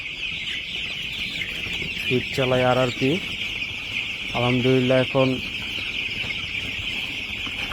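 Ten-day-old broiler chicks in a farm shed keep up a constant high-pitched chorus of peeping and clucking, while someone talks briefly over the flock.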